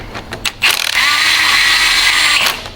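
A power tool snugs bolts down on a differential locker for a Toyota 4Runner, with a few short clicks and then a loud, steady whir lasting about two seconds before it cuts off.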